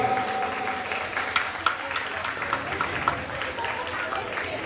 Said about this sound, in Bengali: সেই হাততালিটা একটু জোরে হবে।